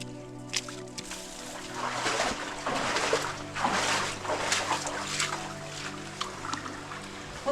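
Water trickles and splashes softly along a small feeder creek in a canyon section near Scatters Canyon, a continuous, moderately close babble with a few brief louder splashes and no talking.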